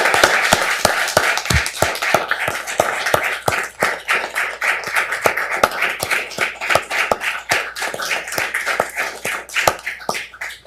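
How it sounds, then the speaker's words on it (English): Scattered applause from a small audience at a county board meeting, individual claps clearly separated and irregular, moderately close, thinning and fading toward the end. "I'd like to give Ryan a round of applause for that."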